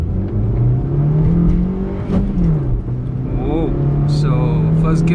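A Maruti Suzuki Baleno hatchback revs hard in first gear and launches off a clutch drop, its engine droning loud and close as the pitch holds, dips and climbs again, with a person speaking over it.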